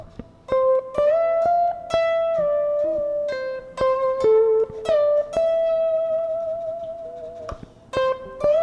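Electric guitar lick of single picked notes with smooth upward string bends held and sustained, ringing clearly with no voices.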